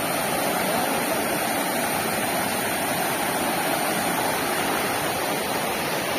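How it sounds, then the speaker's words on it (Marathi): A Konkan waterfall at Vesvi pours down in a steady, loud, broadband roar that continues unbroken throughout. "हा खाली पडतोय वॉटरफॉल"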